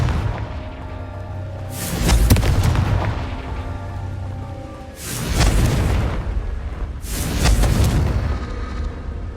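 Booming blasts of the Confringo fire spell in Hogwarts Legacy, three heavy explosions with deep rumbling tails spaced a few seconds apart, loud and close, with no talking.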